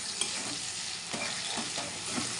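Onions sizzle in a pan with salt while being stirred, a steady dense frying hiss with soft scraping strokes throughout, close and fairly quiet, no voices.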